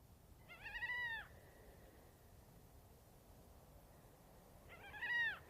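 Two drawn-out, wailing gull cries at night in the Atacama Desert, separated by a long pause, the second slightly louder, over a steady background hiss with no other sounds.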